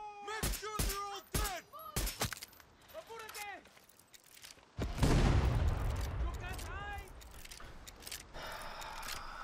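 Gunfire in the Far Cry 6 video game, several sharp nearby shots with ringing tails followed by a heavier burst of rapid fire, while people talk over it.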